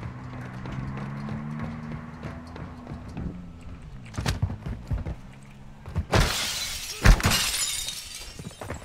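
Glass shatters loudly in a tactical shooter video game, a sudden bright crash followed by a second smaller burst of breaking, after several seconds of quieter footsteps and game ambience.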